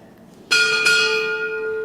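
A ship's bell rung as two bells at a Navy retirement ceremony, two bright metallic strikes in quick succession, the second ringing on and slowly fading with a long sustained tone.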